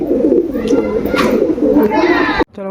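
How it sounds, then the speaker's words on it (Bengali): Pigeons coo in a loft, several soft throaty calls overlapping close by, with faint background chatter and a sudden cutoff near the end. "বন্ধুরা সব কটা পায়রাকে একসাথে খাবার দিয়ে দিই"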